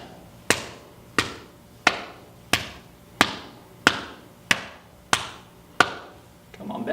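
Crisp percussive taps on the body during a qigong class warm-up, about nine evenly spaced slaps each ringing out briefly, close and moderately loud, with no talking.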